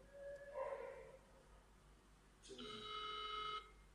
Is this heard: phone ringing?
yes